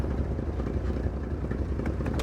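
A vehicle engine idles steadily in the snowy game Kona, a low continuous rumble with faint clatter running evenly throughout and no voices over it.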